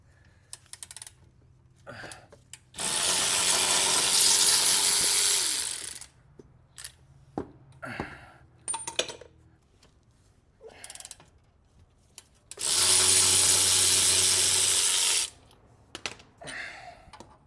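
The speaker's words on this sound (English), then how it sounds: "Now we pull the lower bolt for the shock." A ratchet works loose the lower shock bolt on a BMW, two long loud stretches of rapid clicking separated by scattered tool clinks and quiet handling.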